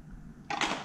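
A safety switch on a 3D-printed Nerf blaster modeled on the Kang Tao from Cyberpunk 2077 gives a single short, sharp click, close up and alone after a quiet moment.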